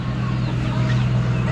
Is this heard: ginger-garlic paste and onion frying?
no